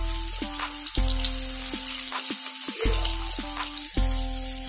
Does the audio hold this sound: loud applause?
no